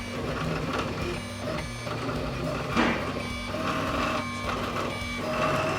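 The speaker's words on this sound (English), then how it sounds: "So I'm printing dive planes for the race car." A 3D printer running steadily while printing dive planes for a race car, with a continuous whirring hum and repeated rising and falling stepper-motor tones close by, alone without talk.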